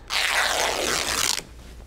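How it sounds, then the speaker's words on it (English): Fabric strips ripped by hand, one continuous close, loud tearing rasp lasting over a second that ends in a few quick snagging bursts. "And then you're just gonna rip this."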